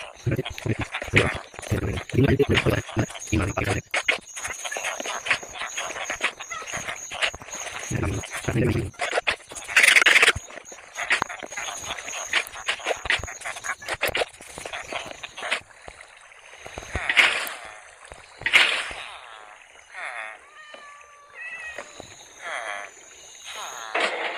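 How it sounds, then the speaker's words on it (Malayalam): In Minecraft, water is poured onto a farm build, giving blocky sloshing and flowing bursts among other game noises, with a voice narrating over the top. "ഇനി വേണം ഇതിൻ്റെ മേളിൽ ഇവിടെ വെള്ളം ഒഴിക്കും."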